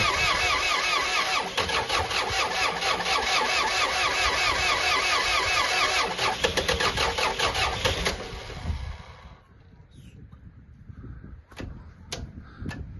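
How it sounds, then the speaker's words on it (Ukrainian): A tractor engine starting in twenty-degree frost, catching on the first crank and running loudly and steadily for about eight seconds before cutting off, leaving quieter knocks and clicks. "пробую з першого разу заводить трактор 20 градусний мороз"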